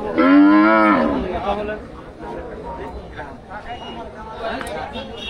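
A Holstein Friesian dairy cow at a village cow market gives one loud, close, drawn-out moo near the start, then the market crowd's chatter and talk carry on around it.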